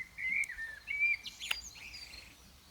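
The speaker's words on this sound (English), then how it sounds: "there are nice singy birds" Birds singing in the distance, a few clear whistled notes and chirps over a quiet background, fading out toward the end.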